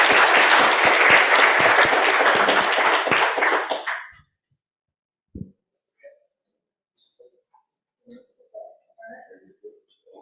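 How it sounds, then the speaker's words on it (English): A conference audience applauds, a dense burst of many hands clapping for about four seconds before fading out, followed by near silence with a few faint scattered taps and murmurs. "Can everybody just join me by giving us a round of applause?"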